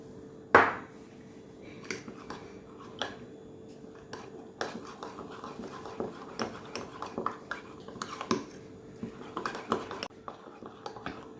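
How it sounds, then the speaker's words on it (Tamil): A spoon stirs eggless blueberry oats mug cake batter with a quarter cup of milk in a mug, giving repeated light clinks and scrapes against the sides at a steady, uneven rhythm, close and fairly quiet. "இப்போ இதை நல்லா மிக்ஸ் பண்ணியாச்சு"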